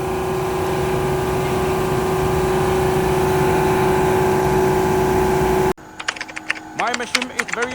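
A 30 horsepower diesel compressor runs on a tube ice machine, a loud steady mechanical drone with a constant hum for most of the clip, then cutting to a quieter scene where someone talks.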